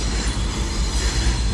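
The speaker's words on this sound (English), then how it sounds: "So here comes a train back from Whitehaven" A train on the Lehigh Gorge Scenic Railway rolls in returning from Whitehaven, a loud, steady rumble of wheels and rails with a faint high squeal, no voices.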